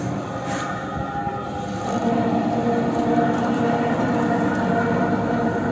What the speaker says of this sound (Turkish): gemi yavaş yavaş şu anda yukarı doğru hareket etmeye başladı